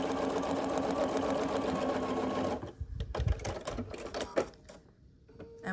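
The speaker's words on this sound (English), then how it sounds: "come to my sewing machine, and we're going to sew on this line here right at the top of A4." A sewing machine stitching a foundation paper-pieced quilt block runs in a fast, steady, close-up whir for about two and a half seconds, then stops, followed by soft handling clicks and fabric rustles.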